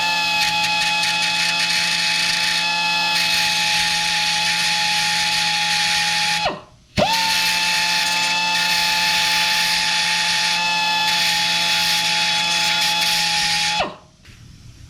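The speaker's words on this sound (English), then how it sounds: "we're just gonna literally take that guy and sand it down just a little bit" A power sander grinds down a protruding screw tip on a custom GP grill for a 1970 Chevelle, with two loud, steady high-pitched runs up close, each ending in a quick spin-down.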